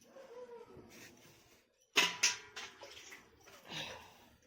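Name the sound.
washing garlic cloves in water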